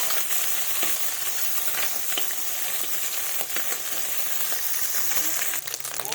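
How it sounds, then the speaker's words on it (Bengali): Small pata-shi fish frying in hot oil in a pan, a steady dense sizzle and crackle running throughout with occasional sharper pops as the pieces are turned, no talking. "মাছগুলো ভাজা হয়ে গেছে,"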